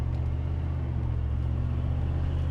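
A 1983 Chevrolet C10 pickup truck with an automatic transmission drives steadily, its engine a loud, constant low rumble and whir close by with no obvious gear change in this short stretch.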